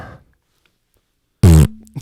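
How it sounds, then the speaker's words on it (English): A single short, loud fart bursts out close after a near-silent pause, following a brief trailing voice at the start, with a faint murmur just after. "That was a fart!"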